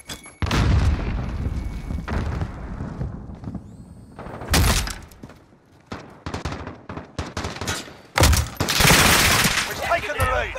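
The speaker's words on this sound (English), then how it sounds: "Throwing grenade." Game explosions and gunfire in a Call of Duty Modern Warfare team deathmatch: loud booming blasts and bursts of rapid automatic fire, with a grenade blast near the middle and heavy firing toward the end, under occasional voices.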